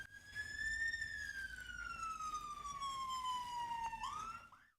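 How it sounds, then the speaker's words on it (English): A single police siren wails steadily, its pitch slowly rising then sinking before a sharp upward whoop near the end, heard alone without voices. "Sirens in your ear."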